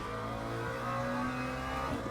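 Race car engine rising steadily as the driver rolls onto the throttle on a wet track, a continuous close, loud onboard drone with layered harmonics and no talk.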